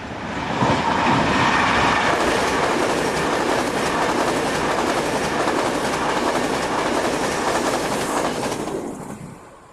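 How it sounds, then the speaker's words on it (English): An ETR 460 high-speed train runs across a viaduct south of a station, a loud, steady rolling roar with wheel clatter that holds for about nine seconds and then cuts off sharply at the end. "ETR 460 high-speed train sets also appear. This one crosses the viaduct just to the south of the station."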